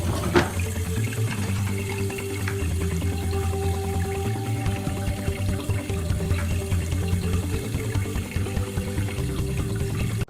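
Tap water runs steadily into a sink for a hand-washing demonstration, a continuous close splashing stream with light clinks and no talk.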